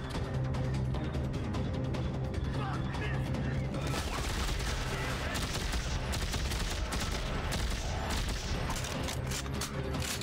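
Sustained gunfire in the video game Dead Space 3, a dense, loud barrage of rapid shots and blasts filling the whole stretch over a game soundscape.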